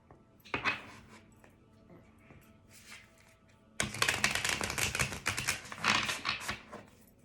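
Tarot cards being shuffled in quick riffling bursts, a short burst early on and a longer, louder stretch in the second half, close up with no talking.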